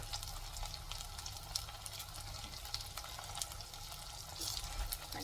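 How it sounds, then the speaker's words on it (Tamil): Soft, continuous sizzling and crackling of taro root frying in oil, quiet and steady with faint stirring clicks now and then. "பொரிஞ்சு வந்துட்டு இருக்கு."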